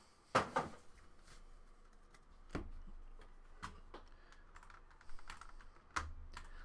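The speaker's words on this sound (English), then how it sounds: "Let's type in these hits here." Quiet typing on a computer keyboard, with scattered key taps and a few louder clacks spaced irregularly over several seconds, no one speaking.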